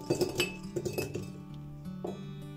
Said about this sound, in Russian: Перекладываю финики в банку.